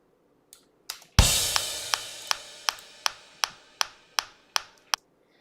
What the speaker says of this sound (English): It sounds like I'm knocking instead of clapping.